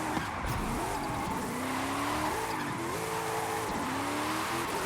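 A Noble M600 drifting in Forza Horizon 5 gymkhana, engine note wavering with throttle while tires squeal continuously through long slides, loud and steady throughout.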